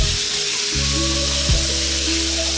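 Minced pork sizzles steadily in a hot pan while a spoon stirs it, giving a continuous close frying hiss with a few scraping strokes and no talking.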